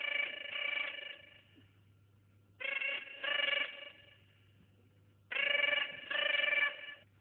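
A telephone bell rings in three long bursts, each a double trill separated by silent gaps, clear and fairly close with nobody speaking.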